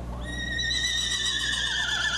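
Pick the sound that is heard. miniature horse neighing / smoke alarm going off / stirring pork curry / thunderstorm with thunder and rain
miniature horse neighing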